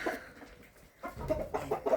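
Soft, scattered hen clucks close by, a few short bursts separated by a brief quiet gap.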